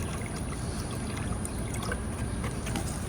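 Acid being poured into water, a soft continuous trickle and splash of liquid heard close and alone, with faint background hiss.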